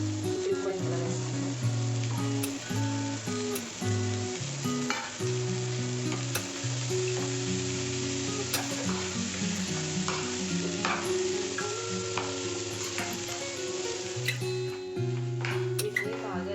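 Boiled beans and capsicum are tossed in a frying pan, a steady sizzle with clicking spatula strokes, set against a loud tonal musical backing.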